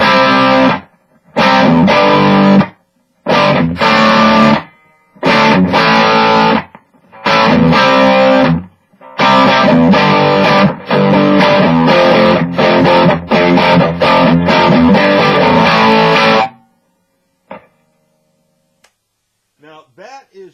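Electric guitar played through the overdrive channel of a Bugera G20 tube amp head with gain near minimum and tones wide open, loud chopped chords and riffs in bursts with short gaps, fading to near silence at the end.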